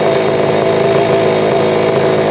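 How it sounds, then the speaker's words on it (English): A Honda Dio scooter with a high-compression race engine runs at a loud, steady, high-pitched buzz, revving constantly close by, with a sharp raspy two-stroke drone and no pauses. "Now the engine is running"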